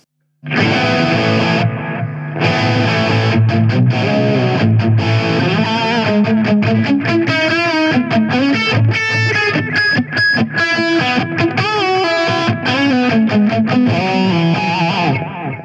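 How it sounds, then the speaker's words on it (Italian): Electric guitar played through the high-gain distortion of a Gokko MX300 analog pedalboard with delay engaged, loud saturated riffs and sustained chords starting after a short silence and running continuously, no talking. "chiudo il riverbero e apriamo la distorsione, quella high gain"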